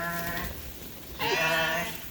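Sheep on a farm bleat twice, close and clear, each a wavering call of about half a second or more, with a short quiet gap between them.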